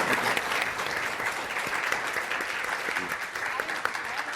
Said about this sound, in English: A round of applause for this great group